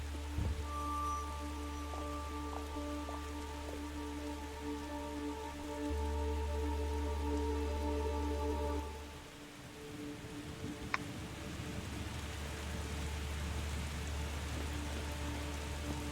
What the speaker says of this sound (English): we are heading into the rain cloud